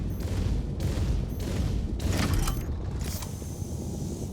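An F8C starfighter fires its eight Deadbolt cannons in a space-combat game: a steady roar of rapid, overlapping heavy gunfire with sharper bursts layered on top, loud and continuous throughout, with no talking.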